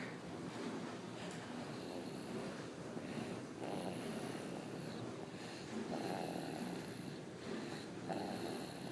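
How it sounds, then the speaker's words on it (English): A baby snores softly at home, with slow, faint, repeated breathy rasps that rise and fall under a steady background hiss. "She's snoring."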